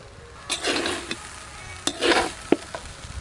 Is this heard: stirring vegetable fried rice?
yes